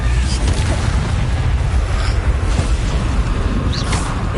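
The Confringo explosion spell in the Hogwarts Legacy video game sounds as a dense, rumbling blast that churns steadily with booming, crackling debris, loud and close with no pause.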